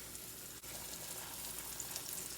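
Steady, soft sizzling of steak frying in hot oil on a gas stove, a continuous crackling hiss with no talking.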